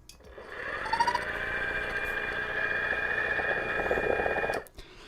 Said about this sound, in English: I'm gonna put the grinder on.